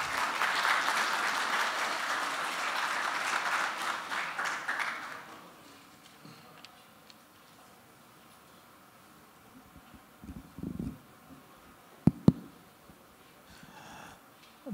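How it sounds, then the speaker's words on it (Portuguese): Symposium audience at an engineering conference welcoming a speaker with applause, a loud burst of many hands for about five seconds that fades into quiet room noise with a few scattered taps and knocks. "Lo recibimos con un fuerte aplauso,"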